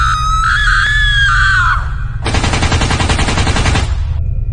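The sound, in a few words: character screaming in Free Fire video game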